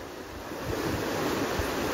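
A big ocean wave breaks near the shore during a camping trip, rising into a broad, loud wash of surf with some wind noise on the microphone, and no talking.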